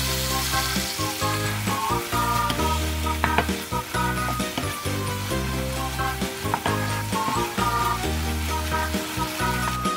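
Pork stir-fries in a hot pan with homemade sauce for a Thai-style spinach rice dish, loud steady sizzling with repeated scraping and tossing strokes of a utensil throughout.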